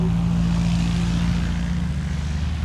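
Loud, continuous drone of propeller airplane engines at the Oshkosh airshow campground, a steady heavy hum filling the whole clip with no voices.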